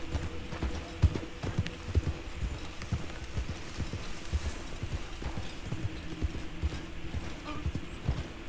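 Steady clip-clop of a horse's hooves at a trotting pace in Red Dead Redemption 2, with mechanical creaks, continuous and fairly close, with a voice talking over parts of it.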